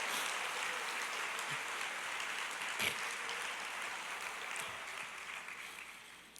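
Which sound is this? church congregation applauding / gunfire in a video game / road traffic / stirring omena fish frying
church congregation applauding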